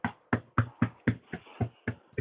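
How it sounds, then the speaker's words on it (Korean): A church congregation at a Sunday worship service claps together in a steady, even rhythm: about nine loud, evenly spaced claps with no talking over them. "우리 정재현 성도님을 위해 격려의 박수"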